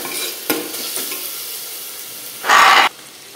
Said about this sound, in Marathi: आपला कांदा चांगला परतलाय, अजून 1 मिनिट परतून देऊया आपण।